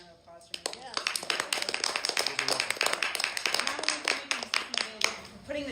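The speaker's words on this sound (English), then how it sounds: "I think Tris deserves a huge round of applause for me." An audience claps for Tris at a business sales event, a run of sharp, fairly close hand claps lasting several seconds while a voice talks underneath.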